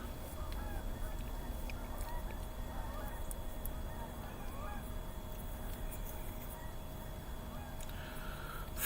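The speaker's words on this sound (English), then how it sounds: "I hear geese." Geese honk faintly in the distance outdoors near a tent on a cold morning, scattered calls rising through steady low background noise.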